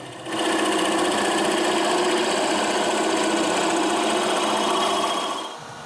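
A drill spins a wood bit the thickness of a nutcracker's legs, cutting the end of a carved wooden shoe, giving a steady high-pitched whine that starts and stops cleanly and holds close and loud with no talking.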